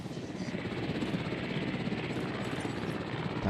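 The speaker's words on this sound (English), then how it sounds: "Sky Crane helicopter. Basically, a helicopter with a massive, massive engine and a cockpit." A Sky Crane heavy-lift helicopter with a massive engine in the video game Jurassic World Evolution gives a steady, loud rotor drone and whine, continuous and close throughout.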